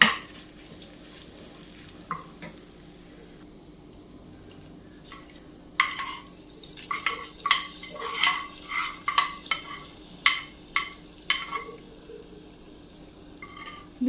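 A spice mixture goes into a Kerala-style mango pulisseri curry in a pan, with a run of sharp clinks and splashy taps, close and irregular, over a faint background hum.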